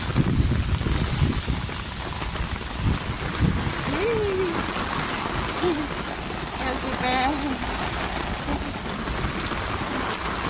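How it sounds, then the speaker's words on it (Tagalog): Heavy rain pours steadily in Hong Kong in a dense wash of noise, with a voice speaking briefly beneath it. "Grabe yung ulan."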